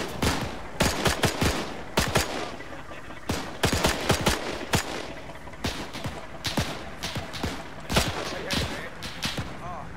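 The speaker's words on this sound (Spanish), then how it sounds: "Disparos. ¡Enfrente!" Bursts of gunfire crack ahead in irregular volleys, single shots and rapid strings of fire spread through the whole stretch, with a voice speaking now and then among them.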